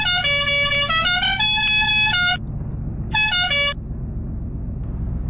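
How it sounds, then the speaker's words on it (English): A car horn blares in a long, shifting-pitch honk, then a shorter second blast, over a low idling engine rumble. "Here's what its horn sounds like."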